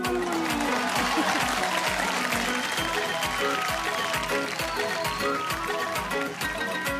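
Studio audience applause on the Bigg Boss 11 Weekend Ka Vaar set, a steady dense clapping wash with a rhythmic thumping beat running beneath it throughout, loud and continuous.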